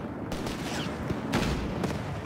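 Rapid gunfire crackles through a battle in Company of Heroes 3, a World War II strategy game set in North Africa, with dense continuous shooting and several sharper loud reports rising above the steady din.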